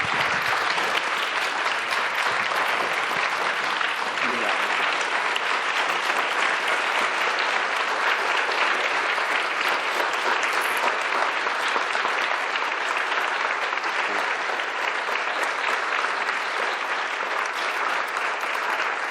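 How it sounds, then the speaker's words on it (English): A university audience at Harvard gives a long, steady round of applause for Albert Woodfox and Robert King, a dense, even clapping that neither rises nor fades. "join me in applauding their courage and thanking them for their time"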